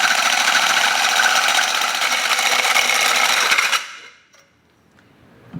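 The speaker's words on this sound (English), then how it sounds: "I'm going to use a hole saw slightly larger than the big tubing on the loop" A hole saw slightly larger than the tubing, run in a drill held freehand because the drill press chuck key is missing, grinds steadily through a pipe on a tinny's loop for nearly four seconds, then stops abruptly, leaving near silence.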